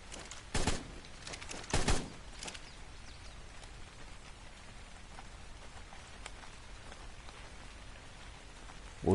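Steady rain falls throughout in the video game ARK, a continuous hiss of drops on surfaces with two brief louder bursts early on and no talking.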